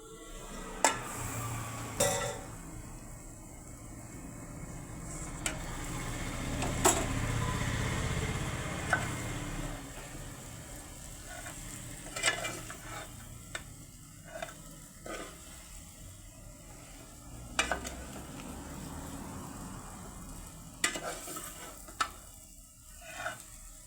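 Chicken pieces sizzle and fry in masala in a pan, with a steady crackle and repeated scraping stirs at irregular intervals, close and moderately loud.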